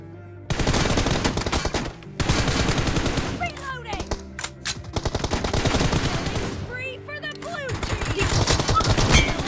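Rapid bursts of automatic gunfire in the mobile game BGMI, loud and continuous with short pauses between volleys, mixed with game effects.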